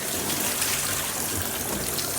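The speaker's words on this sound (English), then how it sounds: "You want to rinse that back off with just some cold water." Cold water gushes steadily from a tap or hose over a PVC suit being rinsed after sanitizing, a continuous splashing rush with no speech.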